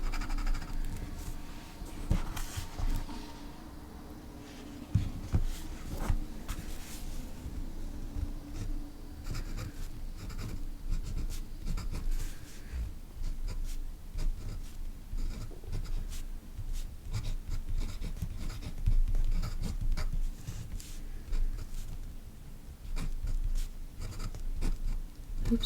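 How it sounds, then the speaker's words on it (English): A fountain pen inked with Tom Studio ink scratches steadily across paper, a continuous dry rasp with small strokes and taps while writing and drawing, close and alone with no talk. "So it doesn't feel as scratchy when you're writing with it, even though you might be able to hear that scratchiness."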